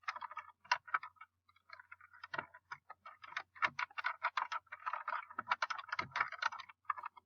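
Rapid, irregular clicking of keys on a computer keyboard placed somewhat far off, typed in uneven bursts with brief pauses and no talking.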